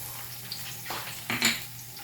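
Chopped onion dropped into a pan of a little hot cooking oil, a brief soft clatter and sizzle near the middle, followed by a quick metallic scrape, with no voices.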